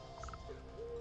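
An owl in the video game Wytchwood gives a short series of soft hoots, followed by a longer gliding call. The calls sit over a steady low ambient game hum and stand alone with no talk.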